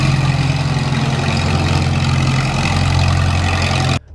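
A Minneapolis-Moline Model U tractor engine runs steadily with a loud, low, throbbing idle close by, alone and without talk, cutting off sharply at the end.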